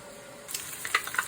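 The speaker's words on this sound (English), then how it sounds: "while the veggies are sauteing" Carrot and mushroom pieces saute in bacon fat, a faint sizzle rising after a short quiet lead-in, with a few crisp pops and crackles close by.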